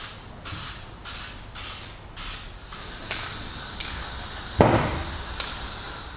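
Aerosol spray paint applied in black to a masked-off vehicle deck, a series of short hissing bursts with brief pauses between them, followed by a steadier hiss and a sharp knock.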